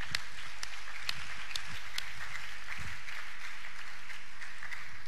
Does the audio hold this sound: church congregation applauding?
yes